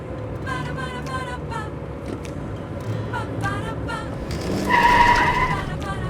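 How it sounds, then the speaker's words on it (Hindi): A car brakes suddenly with tires squealing in a sharp skid near the end, over a running engine and busy background, while voices talk before the skid. "वो कुछ सामने आ गया था, इसलिए मुझे इस तरह से गाड़ी को रोकना पड़ा"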